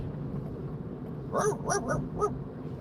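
A dog gives a short burst of three or four quick, fairly close yips or barks over a low road-trip background hum, with no talk.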